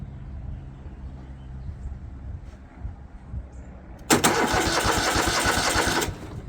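A John Deere L130 lawn tractor engine, tried with no choke, cranks loudly in a fast, rhythmic churn for about two seconds and then stops without catching, after a stretch of quiet low rumble.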